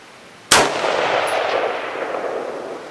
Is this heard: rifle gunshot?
yes